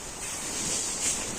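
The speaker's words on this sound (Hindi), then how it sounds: "कितनी तेज हवा चली है।" Strong wind rushes outside a tent in a deep forest campsite, a steady airy roar with a brief gust swelling near the end.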